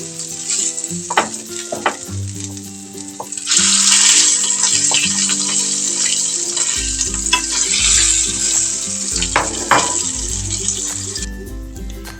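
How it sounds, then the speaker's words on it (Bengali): Small hilsa fish fry in hot oil in a pan, a loud, close, continuous sizzle with occasional scraping and stirring of the pieces. "এ পর্যায়ে এই মাছগুলো ভাজি করা হয়ে গেছে।"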